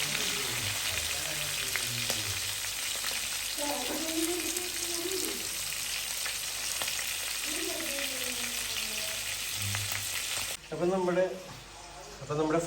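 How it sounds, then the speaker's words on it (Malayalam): Guinea fowl meat fries in a pan with a constant hiss of sizzling oil that runs throughout. A person talks over it now and then. "നമ്മുടെ ഗിനി ഇവിടെ കിടന്ന് ഇങ്ങനെ വെന്തുകൊണ്ടിരിക്കുകയാണ്."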